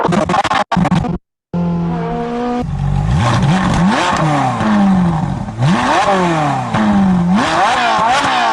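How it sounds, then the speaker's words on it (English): Car drifting with an engine revving hard, sweeping up and down in repeated rising pitch surges and tire scrubbing, loud and continuous apart from two brief dropouts near the start. "Maybe I might actually use the drifting audio right here."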